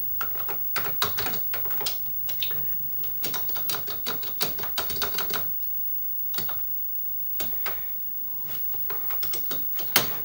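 Keys clacking on an Amstrad CPC664 computer keyboard, bursts of quick sharp taps in uneven runs with short pauses between, close and fairly quiet, no talk.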